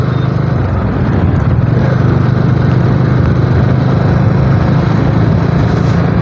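A Bajaj Dominar motorcycle cruises on the road near Panagarh between Bardhaman and Durgapur, its engine a loud, steady drone blended with constant wind rush from start to finish.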